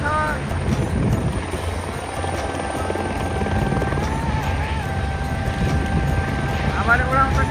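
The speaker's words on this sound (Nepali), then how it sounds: "पाइलट अहिले हेलिकप्टरलाई अब ग्राउन्डमा ल्यान्ड गराइसक्नुभयो" A helicopter lands on the ground at Aintree racecourse during the Grand National horse race festival, its rotor and turbine drone loud and steady with a whining tone, while a person talks over it.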